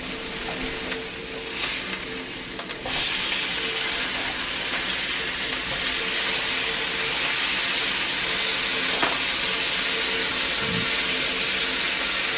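Bacon cheeseburger patties sizzle in a pan with a loud, steady, broadband hiss that swells after a few seconds and then holds constant, close-up, with no voices.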